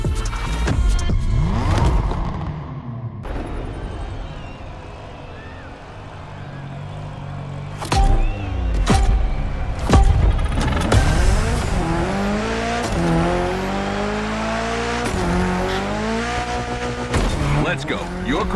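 A Mitsubishi Evo 9 rips through a gymkhana run in The Crew Motorfest, its engine revving hard and repeatedly climbing through gears with tire squeals and sharp shifts, loud and close, with occasional talk over it.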